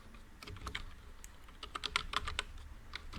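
Java code typed on a computer keyboard during a HackerRank coding exercise: quiet, quick, irregular key clicks in short flurries, close and alone.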